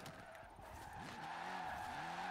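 A Vauxhall Corsa drifts sideways in Forza Horizon 4, its tires squealing in long, wavering skids over a steady engine drone that runs throughout at an even, moderate level.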